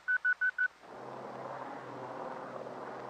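An ILS marker beacon sends four short high-pitched dots at about six per second, then falls silent as a steady low engine rumble takes over.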